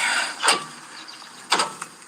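Warped brake rotor being pulled off a car's wheel hub, catching and scraping on the wheel studs: two short metallic grinding scrapes about a second apart, fairly close, with faint rattles between and no talk.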